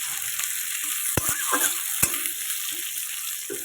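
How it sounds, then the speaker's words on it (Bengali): Onions frying in hot oil for a bean bhorta, a close steady sizzle broken by a few sharp clacks of a spoon against the pan as they are stirred. "পেঁয়াজ দিয়ে দেবো পেঁয়াজটাকে লাল লাল করে ভেজে নেব আমি"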